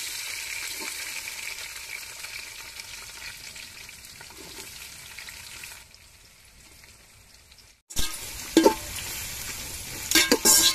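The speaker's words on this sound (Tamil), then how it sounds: "வெங்காயம் நல்லா செவந்து வர்ற வரைக்கும் வதக்கிக்கிடுவோம்." Chopped onions frying in a pan for a fish biryani make a soft continuous sizzle, broken midway by a brief hush, then louder scraping and clattering stir strokes near the end.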